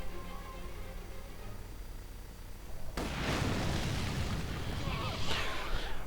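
Incendiary artillery barrage in the Company of Heroes 2 strategy game, with a sudden loud rumbling burst of explosions and fire after a quieter stretch of game ambience and a voice over the action.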